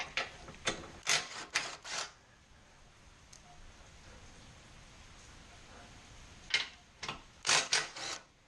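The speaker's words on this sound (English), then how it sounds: "Now we need to remove the 4 nuts and 1 bolt on either side of the bumper support." A ratchet removes nuts and a bolt from the bumper support of a Mini Cooper R53, giving quick bursts of close clicking, clustered at the start and end with a quiet gap between.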